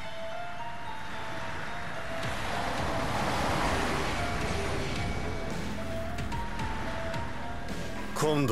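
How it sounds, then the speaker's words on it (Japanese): Ocean waves wash against an island shore in the video game JoJo's Bizarre Adventure: Eyes of Heaven, a steady broadband surf roar swelling slightly midway, with faint sustained tones running beneath. "波の音が聞こえるか。"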